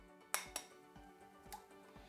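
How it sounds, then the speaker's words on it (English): An egg cracks against a bowl rim in a kitchen, heard as a few sharp, faint clinks and taps spread over about two seconds, with no talking. "Crack an egg."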